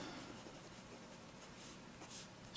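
A vintage Waterman C/C cartridge fountain pen with a very fine nib scratches faintly and steadily across paper, a soft, continuous writing sound in a quiet room.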